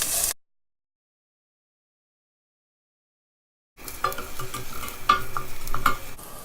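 Curry leaves and chopped onions fry in hot oil for shrimp curry, sizzling and crackling steadily while being stirred, close to the pan after a brief silent gap.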